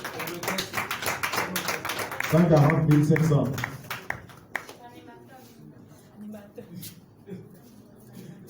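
An audience at a book launch breaks into applause, a burst of clapping swelling in the middle and fading away, while a speaker talks before and after it.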